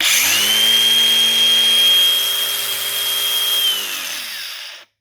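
A cordless Dewalt DCG412B or DCG416B angle grinder spins up to a loud, steady high-pitched whine close by, holds for several seconds, then winds down quickly as its brake stops the disc.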